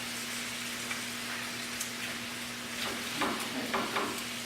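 Apples sauté in a pan over medium-low heat with a soft, steady sizzle, plus a low hum and a few faint stirring taps near the end.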